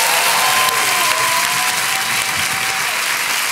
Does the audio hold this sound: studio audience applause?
yes